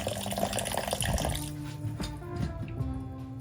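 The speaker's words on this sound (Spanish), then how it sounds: "le vamos a poner agua fría para cortar la cocción, para que nuestro arroz quede sueltecito" Cold water gushes from a tap over cooked rice in a kitchen, a loud steady pour for the first half, then quieter splashing and dripping.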